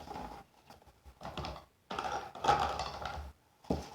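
Mossy Meadow cardstock folded in half and creased flat with a bone folder, giving several soft papery rustles and scraping swipes in short bursts with quiet gaps between them, close up and moderately quiet.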